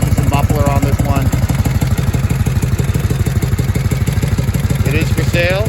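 A 1971 Harley-Davidson FX motorcycle with its correct header and an M51V muffler idles close by, a rapid, even, loping chug that holds steady throughout while someone speaks briefly over it.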